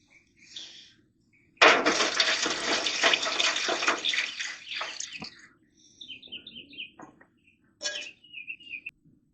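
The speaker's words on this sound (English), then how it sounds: "We're going to add some broth." Broth poured into a pan holding a pork butt before it goes on the grill, a splashing pour of several seconds that tapers off, with a few faint birds chirping outdoors before and after.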